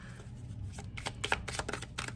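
Close, quick riffling of tarot cards being shuffled in short bursts, a soft papery flutter repeating steadily with no talking.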